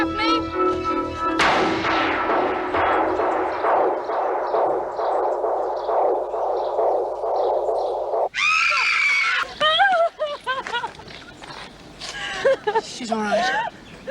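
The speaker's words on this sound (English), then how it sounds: "Stop or I shoot, Gaffney!" A gunshot rings out in a TV women's prison drama, a single loud, sharp crack that cuts off a stretch of frantic shouting and screaming, followed by close, agitated voices talking.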